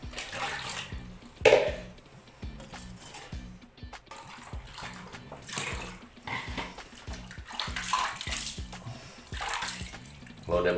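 Water pours and splashes as it is added to a bath for a baby monkey, close and irregular sloshing with sporadic louder splashes, while a person talks softly nearby.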